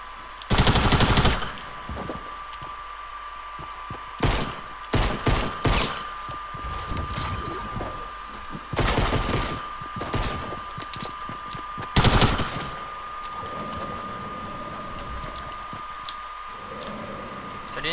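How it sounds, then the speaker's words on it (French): Sharp tactical pistol shots from Fortnite ring out in separate loud cracks, a few single shots and quick clusters spread across the clip, with quieter game ambience between them. "aujourd'hui ils ont remis ce petit pistolet tactique"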